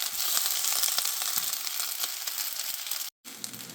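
Fried rice sizzles and crackles steadily in a hot pan as it is stirred, with close, continuous frying noise and occasional scraping ticks.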